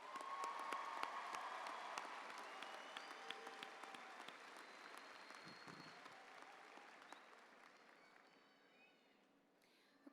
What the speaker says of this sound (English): Class, I think we should give them one more round of applause.